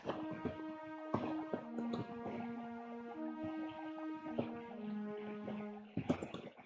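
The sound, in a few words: Sytrus orchestra string preset in FL Studio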